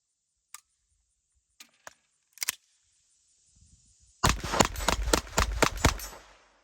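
Sig P322 pistol fired at a range: a few scattered sharp cracks, then a rapid string of about eight loud, close shots in quick succession.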